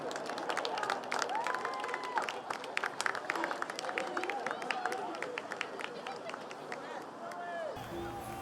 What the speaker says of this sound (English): one big round of applause for our players